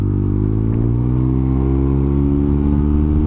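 A Yamaha TMAX scooter accelerates hard on a road during touring, its engine note rising steadily in pitch as a loud, continuous drone close by, with no talk over it.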